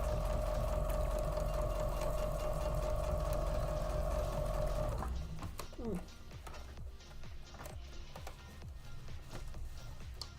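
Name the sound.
sewing machine stitching quilt block seams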